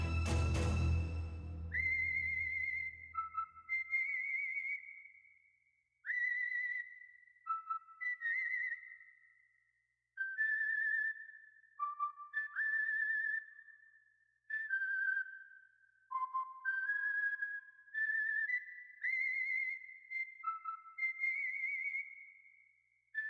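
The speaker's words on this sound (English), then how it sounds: "began to whistle a cheerful tune as they made their way to the car" A person whistles a cheerful, bouncy tune in short melodic phrases with brief pauses, clear and close, following a soft rustle at the start.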